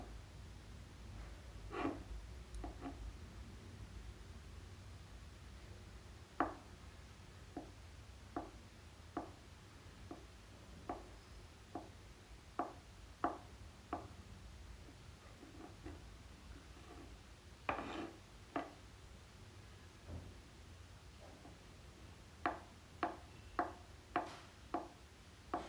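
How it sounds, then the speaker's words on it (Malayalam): Knife chopping a quartered taro (chembu) stem into small pieces on a board for vegetable puzhukku, a series of sharp, close taps, spaced irregularly, with denser quick bursts near the end and no talk. "അതൊരു 4 കീറാക്കി നമുക്ക് ചെറുതാക്കി നുറുക്കിയിടാം."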